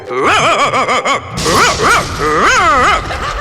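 A person imitates a dog in a comedy sketch, voicing a loud, close rapid series of yipping barks and then a few longer, drawn-out howling whines.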